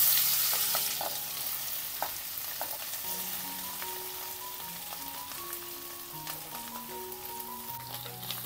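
Potato pieces frying in hot oil seasoned with mustard seeds, asafoetida and turmeric: a steady, close sizzle with scattered pops and crackles, fading slightly as it settles, with no talking.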